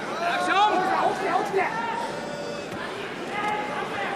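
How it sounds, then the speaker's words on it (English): Crowd at a Pride FC mixed martial arts fight reacting, a broad murmur and rising hubbub of spectators in a large arena, heard beneath close commentary talk throughout. "listen to the crowd reacting to that"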